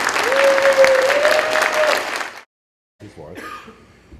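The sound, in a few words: audience applause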